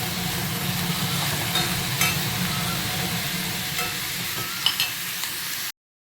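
Onions frying in a pan while being stirred, a steady close sizzle with scraping stirs throughout that cuts off abruptly near the end.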